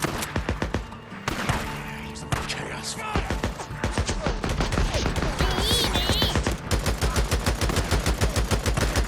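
Automatic gunfire rattles in the zombie-survival video game Days Gone, set on hard mode: loud, rapid bursts of evenly spaced shots that keep going almost without a break, against a dense background of game noise.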